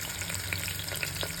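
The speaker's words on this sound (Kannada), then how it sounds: "ಎಣ್ಣೆ ಕಾಗಬೇಕಾದ್ರೆ 1-2 ಈರುಳ್ಳಿ ಹಾಕ್ತಾಯಿದ್ದೀನಿ." Onions and green chillies frying in hot oil, a dense close crackling sizzle with tiny pops throughout, with no talking.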